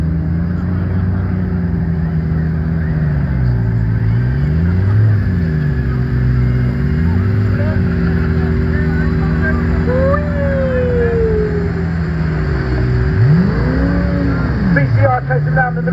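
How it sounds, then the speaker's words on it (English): Hypercars, a Rimac Nevera Time Attack and a Bugatti Veyron, launching at a supercar festival, with loud engine revs rising and falling under continuous talk and a whining pass toward the end. "Here comes the Rimac Nevera Time Attack and the Bugatti Veyron."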